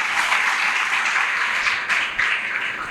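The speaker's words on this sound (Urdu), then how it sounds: "تو کلام کو ایک بار پھر تالیاں بجا کے ویلکم کیجیے" A church congregation applauds to welcome a sermon on freedom, steady dense clapping filling the room throughout at a fairly loud, even level with no talk over it.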